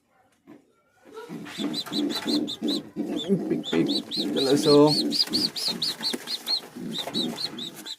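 Lotan pigeons call in a busy run of rhythmic, pulsing bird sounds that start after a short near-silence and then continue loud and close, with brief gaps.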